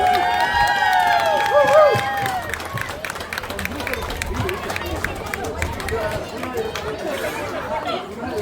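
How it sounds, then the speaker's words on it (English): Audience applause at a hosted stage event, a sustained wash of clapping over a crowd's chatter and a brief tonal voice at the start, steady and moderately loud throughout. "please give them a big round of applause"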